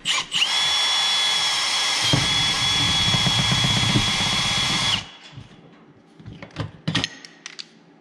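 A power drill drives tin screws into a wall, a loud steady whine held for about five seconds as it bogs and labours, then stops, followed by a few quieter clanks and knocks.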